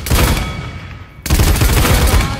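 Paladins Barrage ultimate: loud, dense automatic gunfire in two sustained bursts, split by a brief dip and then a sharp resumption, with no speech over it.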